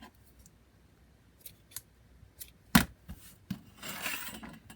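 Scissors snip through a length of twine while making knotted red bird ornaments, with one sharp, close cut standing out among faint handling and rustling sounds.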